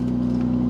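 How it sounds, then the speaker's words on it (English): A loud car engine drones steadily from inside the vehicle, a constant low hum that holds without change and has no talk over it. "Car is so loud."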